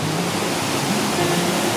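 Steady, dense roar of a waterfall on a river in Nova Scotia, a continuous broadband rush of falling water heard close and loud throughout with no voices.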